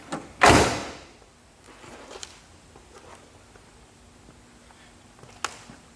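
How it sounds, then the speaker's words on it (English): A door on a 1974 Oldsmobile Hurst pace car thumps shut once, loud and close, followed by quieter faint clicks and handling noises in an otherwise still setting. "Both passenger and driver side doors open and close with ease."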